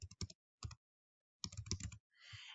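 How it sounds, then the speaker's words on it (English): Short bursts of keystrokes on a computer keyboard while an email address is typed, with clusters of close, crisp clicks separated by brief pauses. "now you're gonna type in your email address"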